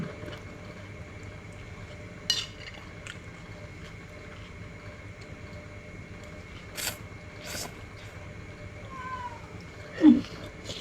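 A cat meows inside a room, two short cries in the later part, the last one louder and closer, over a quiet background with a few faint knocks.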